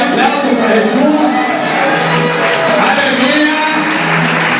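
A church congregation applauding during worship, producing a steady, loud wash of clapping from many hands that continues without a break, with faint voices mixed into the crowd noise.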